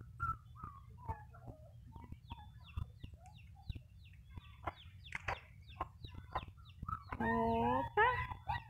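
Chickens clucking close by on a farm in the morning, a steady run of short clucks and chatter over a low background hum, ending with a louder drawn-out squawk.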